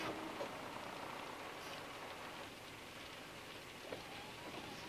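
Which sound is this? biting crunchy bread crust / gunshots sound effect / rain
rain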